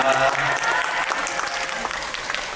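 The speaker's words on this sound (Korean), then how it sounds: "입장해 주실 때 박수로 환영 부탁드리겠습니다" A cinema audience at a Lotte Cinema World Tower stage greeting claps to welcome guests walking in, dense continuous applause that fades slightly, with a voice heard briefly at the start.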